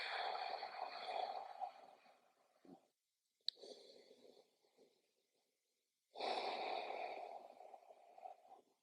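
Slow, deep breaths during a yoga child's pose, long airy inhales and exhales close to the mic, separated by silent pauses, with no talking.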